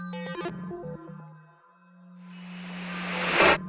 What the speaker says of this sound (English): So this is giving us a noise tone